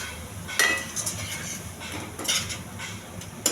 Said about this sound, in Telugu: ఈ చేప ముక్కలంతా కొంచెం మసాలా పట్టేంత వరకు కలపాలి.